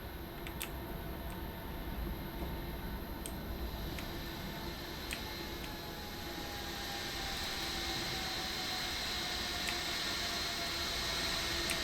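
Jet airliners landing in Microsoft Flight Simulator, a steady engine roar with a slowly falling whine and faint periodic ticks, continuous throughout and untouched by talk.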